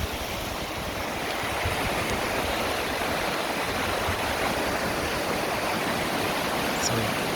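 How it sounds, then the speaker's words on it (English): Waterfall along Flat Laurel Creek in autumn mountain forest, a loud, continuous broadband rush of falling water filling the whole stretch without a break, close by. "It's a pretty waterfall."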